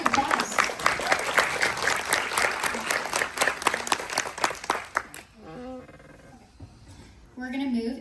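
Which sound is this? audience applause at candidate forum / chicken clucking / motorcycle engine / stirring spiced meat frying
audience applause at candidate forum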